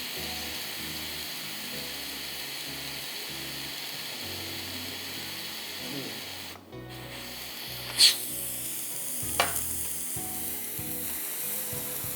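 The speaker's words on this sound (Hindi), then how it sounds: "बस अब इसको मैं भूनूंगी 5 मिनट से भी कम, थोड़ा सा भून लूँ ताकि तेल ऊपर आ जाए" A beetroot mutton masala with garam masala fries in a pan, giving a low, steady sizzle broken by a few sharp clinks of a utensil.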